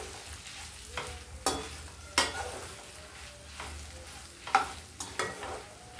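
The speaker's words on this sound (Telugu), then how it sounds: "కలర్ మారిపోకుండా మనం జాగ్రత్తగా వేగించుకోవాలి" Spices and chili powder fry in a pan with a steady sizzle while a utensil scrapes and stirs in a few sharp, repeated strokes, close and moderately loud with no voices.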